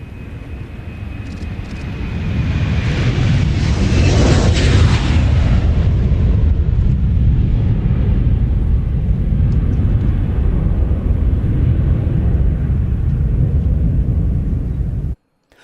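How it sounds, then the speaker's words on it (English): A departing aircraft at the Royal International Air Tattoo builds into a loud, sustained jet roar that holds powerfully for over ten seconds before cutting off abruptly, with no talk over it. "So pleased this particular aircraft actually took off."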